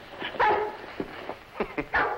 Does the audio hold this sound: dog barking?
yes